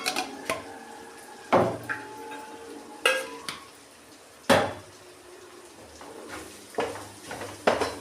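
A metal spoon scrapes and clanks against a pan while mutton fat curry with chili powder fries, with sharp irregular knocks over a low background sizzle.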